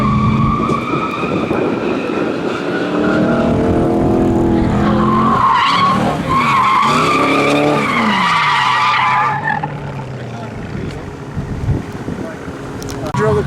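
Loud tires screeching in long, wavering skids as a 1JZ-swapped car drifts, with engine roar underneath and people talking over it.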